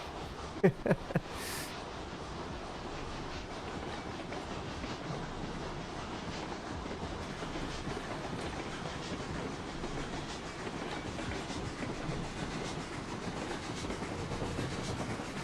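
A steam train on a hill line runs along the rails with a steady, continuous rumble and rolling rattle, a few sharp clanks near the start, then an even, sustained roar that stays fairly close throughout.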